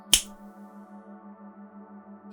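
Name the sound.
finger snap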